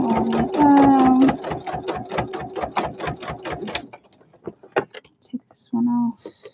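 A sewing machine runs a fast, even stitching burst on a toiletry bag, loud and close with rapid rhythmic needle strokes, then stops into scattered clicks and handling noises of fabric and parts.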